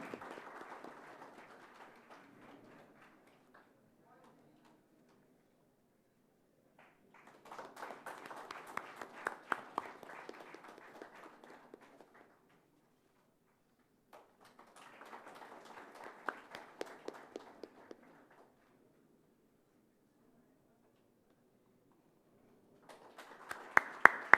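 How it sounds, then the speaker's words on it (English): Audience applause at a college night inauguration during the lamp lighting, arriving in several separate bursts of moderate clapping with quiet gaps between, ending in a sharper round. "Can we have a round of applause?"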